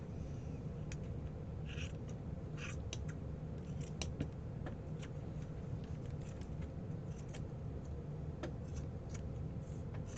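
Scissors snip through paper in a series of short, crisp cuts, trimming it into a feather shape, with scattered clicks and snips repeating close by over a steady low background hum.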